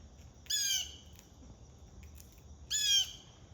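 Blue jay squawking at a squirrel outdoors, two harsh, loud calls a couple of seconds apart over quiet background.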